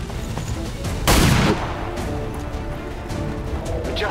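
A single loud pistol shot in the turn-based strategy game XCOM 2: War of the Chosen bursts out near and sharp, briefly over a steady bed of game ambience and background noise.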